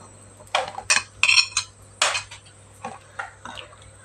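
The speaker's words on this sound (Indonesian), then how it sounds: "Kita kacau-kacau." A metal spoon clinks and scrapes against a pot while stirring tom yam soup with asam keping, lemongrass stalks and tom yam paste cubes, a few sharp close knocks followed by softer, fading taps.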